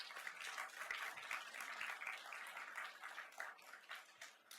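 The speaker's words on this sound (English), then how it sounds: "Let's give a big round of applause for both of these candidates." Steady applause from an audience, a dense patter of many hands clapping at moderate volume, continuing evenly for several seconds.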